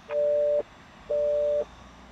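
Telephone busy tone after the other party hangs up on a call: two steady beeping tones, each about half a second long with a gap between, with a third just starting at the end. The tones are clear and fairly loud over a faint background hiss.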